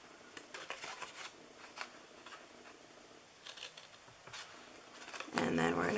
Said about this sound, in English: And then we're gonna cut that one in half, or make it a little smaller.